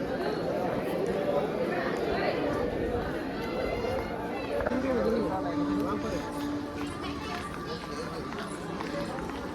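Dense crowd at Mallikarjuna Jyotirlinga temple, a steady wash of many overlapping voices and footsteps close around, continuous and loud throughout.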